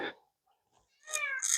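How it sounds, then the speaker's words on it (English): A house cat gives two short meows close by, a faint brief call followed by a clearer, rising one after a pause of near silence. "And that's my cat."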